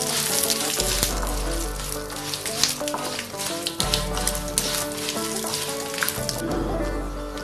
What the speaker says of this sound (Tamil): 2 நிமிஷம் நல்லா வதக்கிக்கலாம்.